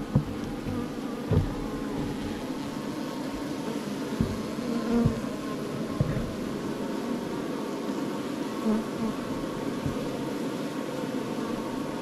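Bees buzz steadily and close at a weakened top bar hive, a dense continuous drone with a few brief knocks and bumps scattered through it.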